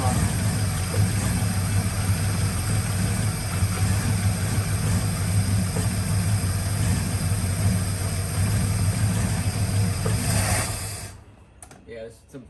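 A 1970 Buick Skylark engine runs with a struggling carburetor, a steady rough drone close by that cuts off abruptly near the end, leaving near silence.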